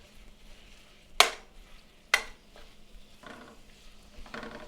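Sausage with onion and garlic is stirred in a pan: two sharp scraping clacks of the utensil stand out over a faint, steady sizzle, followed by softer stirring strokes.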